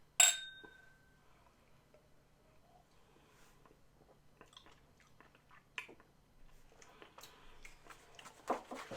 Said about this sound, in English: Let's clink them and drink them.